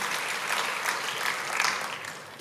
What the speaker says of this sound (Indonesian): Boleh nih kasih tepuk tangan yang luar biasa buat Yesus Tuhan.